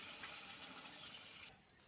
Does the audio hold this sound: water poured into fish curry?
yes